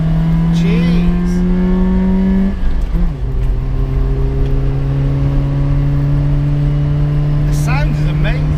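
A modified Nissan Micra's engine drones loudly and steadily, held at high revs in third gear; the pitch dips briefly as it shifts, then climbs and sustains under road noise, with people talking over it.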